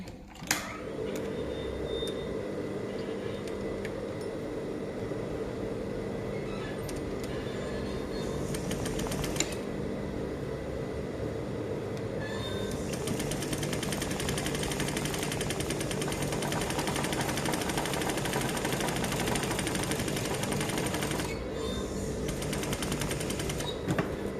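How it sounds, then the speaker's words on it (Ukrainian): A sewing machine stitches a folded hem with a continuous close mechanical whir and rattle that runs almost unbroken, with brief pauses and no talking. "Підвернули і закріплюємо строчкою на відстані 5 мм від зрізу."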